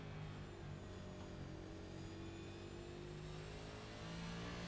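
A race car engine in the iSNF Cup Series racing game, The Moonshine 200, holds a sustained high-rpm drone with slowly rising and falling pitch, close and steady with no talk over it.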